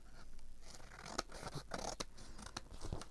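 Scissors trim off craft material up close in a few quick, crisp snips with light scraping between them, fairly quiet, with no talking.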